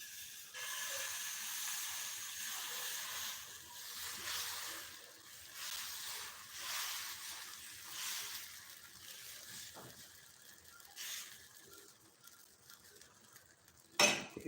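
Dosa batter spread on a hot pan, giving a steady hiss and sizzle with soft scraping and a brief clatter of utensils near the end, close and moderately faint with no talk.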